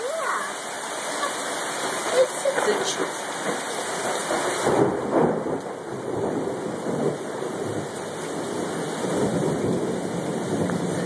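Heavy rain pours in a Florida tropical storm, a dense steady hiss with a swell of louder roaring midway that fits a thunder rumble, continuous throughout.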